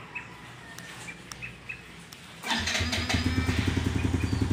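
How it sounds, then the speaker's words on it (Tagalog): Birds chirp faintly, then a Yamaha Sight motorcycle engine starts abruptly by push-button start and settles into a steady, throbbing idle nearby. "So, nag-start na yung motor natin."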